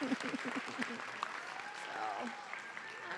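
Graduates applaud at a summer nursing pinning ceremony, a steady wash of clapping from a room of people, with a few voices mixed in at moderate level.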